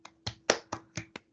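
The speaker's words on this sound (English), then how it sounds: "So if anyone wants to join me in a round of applause" Applause comes through a Teams call as six sharp, separate claps, faint and close, spaced unevenly over about a second.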